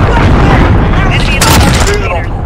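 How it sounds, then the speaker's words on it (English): A cruise missile strike in Call of Duty Modern Warfare multiplayer, a loud continuous rumbling boom with a sharp blast near the middle, mixed with gunfire and a voice talking over it. "Allied cruise missile launch. Target down."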